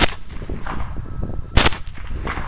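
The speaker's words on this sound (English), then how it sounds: "We're both shooting." Gunshots from two hunters shooting at feral hogs at night, a rapid cluster of loud, sharp reports close by with echoing tails, one especially strong blast near the middle.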